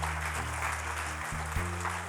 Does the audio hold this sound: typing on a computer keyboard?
no